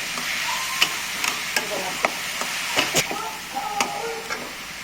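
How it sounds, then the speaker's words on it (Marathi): Cabbage kachori filling stirred in a pan over medium gas, a low frying hiss broken by irregular clicks and scrapes of the spoon against the pan. "मला बारीक गॅस करून हलवायचं, मिडियम गॅसवर"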